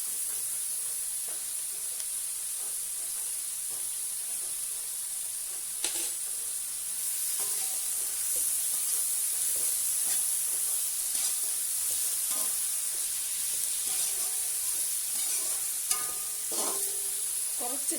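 Food sautés in a pan with salt added, a steady soft sizzling hiss with occasional stirring clinks and scrapes, continuous and fairly quiet.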